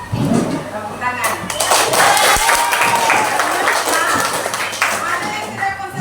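A group of children claps together in a classroom, a short ragged burst of applause with a teacher's voice speaking over the claps.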